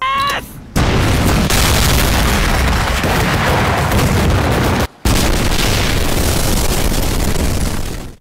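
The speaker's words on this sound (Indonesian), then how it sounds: "mereka pun loncat ke air lalu meledakkan semua C4 yang telah terpasang" C4 charges detonate in the anime Heavy Object, a loud, sustained roaring blast filling the whole clip, briefly cut off and then resuming just as heavy until it fades at the end.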